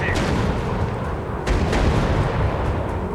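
Guns on a warplane fire in a World War II style air combat game, sounding as dense continuous rumbling bursts with a few sharper cracks. No one speaks.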